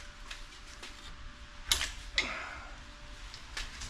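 A spanner wrench turns a shock collar on a Ford Raptor's 4.0-inch bypass shock, with soft creaks and light ticks before two sharp metallic clicks about half a second apart, close and fairly quiet.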